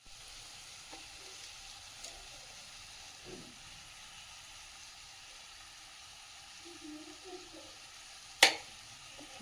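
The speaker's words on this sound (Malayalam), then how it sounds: "ഇനി ഇതെല്ലാം നല്ലതുപോലെ ഒന്ന് ഇളക്കി ചേർക്കുക." Spices frying in a pan for a North Indian-style pumpkin masala give off a faint, steady sizzle while being stirred, with a sharp clatter near the end.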